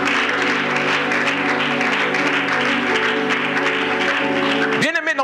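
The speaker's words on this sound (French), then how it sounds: "Est-ce qu'on peut acclamer la parole du Seigneur?" A church congregation claps in acclaim, the steady applause mixed with sustained voices or music that carries through most of the clip before a sharp rising cry near the end.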